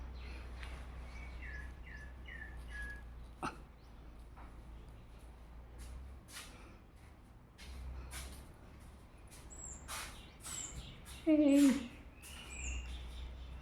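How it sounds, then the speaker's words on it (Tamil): Small house sparrow chirps come in short, thin bursts at close range over a steady low hum, with a louder flurry near the end. "சிட்டுக்குருவி சார் என்ன பண்ணுறாருன்னு பார்க்கலாம் பாருங்கள்."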